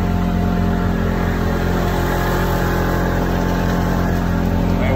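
A Polaris Ranger XP 1000 UTV engine held at 5,200 RPM drones loud and steady at close range, a continuous harmonic roar with no pauses.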